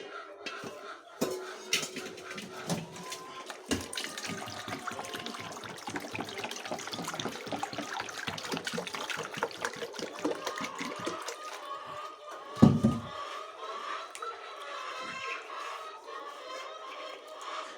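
Herbs are washed by hand in a large pan of water, with close splashing, swishing and trickling broken by clinks and clatters of the pan, and one sharper bang near the end; soft and steady throughout.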